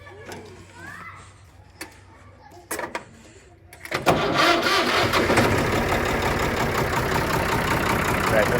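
A tractor engine cranks and catches, then settles into a loud, steady rumbling idle at close range, after some quiet background noise and a few knocks.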